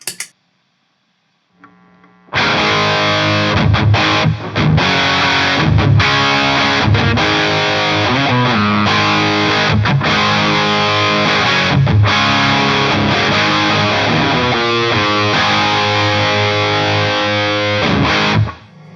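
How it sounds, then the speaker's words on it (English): After a short quiet start, a loud electric guitar through a distortion pedal plays crunchy, saturated chords with rhythmic palm-muted stops, then cuts off. "now I'm going to check out my distortion pedal"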